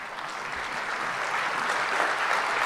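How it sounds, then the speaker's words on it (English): An audience at a political speech applauds in a steady, dense wash of clapping that holds for a few seconds without a break. "They're applauding him."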